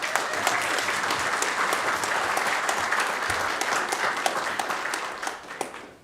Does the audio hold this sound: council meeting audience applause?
yes